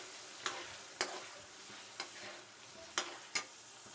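Masala with tomato and green chili is stirred in a pan under a soft, steady sizzle, with about five sharp spatula taps against the metal, fairly quiet and with no voices.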